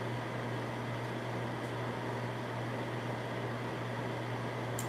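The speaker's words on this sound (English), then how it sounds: "No, the rice at the microwave now." A microwave oven runs steadily while heating rice, giving a faint, even hum with a constant low drone and no voices.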